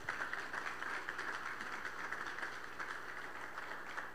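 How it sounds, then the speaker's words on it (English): An audience at an evening talk gives a steady round of applause, with many hands clapping densely and evenly for several seconds. "So let's give a round of applause for them."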